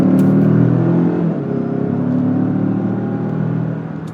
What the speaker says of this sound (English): We're going to do a full throttle on-ramp test. And full power.